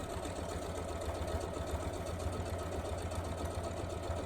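Sewing machine stitching a fabric tool wrap with a lengthened stitch, a steady rapid whirring hum running continuously at a moderate, quiet level.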